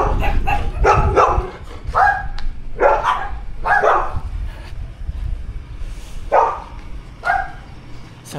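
Fierce dogs bark repeatedly along a village road in the Philippines, a series of loud, close, sharp barks in uneven bursts, with some yips and whimpers mixed in, over faint outdoor background noise.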